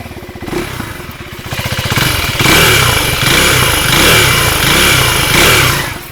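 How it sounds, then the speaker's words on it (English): A Husqvarna Svartpilen 401 motorcycle idles with a low, thumping single-cylinder exhaust beat, then revs up into a loud, sustained roar that rises and eases in several surges close to the bike. "Let's check out the exhaust note first."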